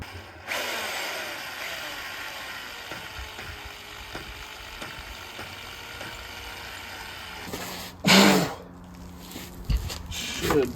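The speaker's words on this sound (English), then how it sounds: "I need to just drill that one out a little bit more." A power drill whirs steadily for several seconds as it bores out a hole in a wooden dining chair under repair, then gives a few short, louder bursts near the end.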